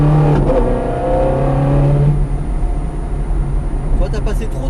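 A Ferrari F430 Scuderia accelerating on a track during a driving course, its engine droning loud and close with rising tones before a gear change, then a rougher lower rumble; a voice speaks over it.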